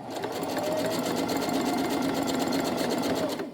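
Sewing machine stitching a tote bag without a lining, a close, steady, even whir of the motor and needle running continuously at constant speed throughout.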